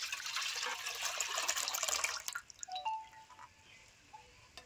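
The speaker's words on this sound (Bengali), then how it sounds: "আমি দুধটা প্রথমে এই গামলায় ঢেলে নেবো।" Thickened, cooled milk pours from a container into a large bowl, a bright splashing stream for about two seconds that cuts off, followed by a few small drips and trickles in a quiet kitchen.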